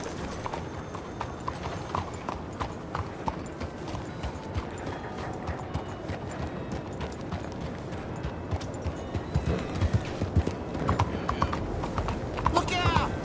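In Red Dead Redemption 2, a horse gallops with rapid, steady hoofbeats that build louder toward the end, while characters talk over the pounding rhythm.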